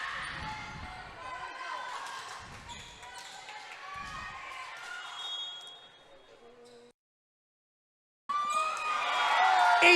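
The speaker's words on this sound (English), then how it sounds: "Hear the Mountain View crowd getting into this game a little bit." A school gym crowd at a high school girls' volleyball match between Los Altos and Mountain View, clamoring and cheering with ball bounces, a brief silence, then a loud swell of cheers.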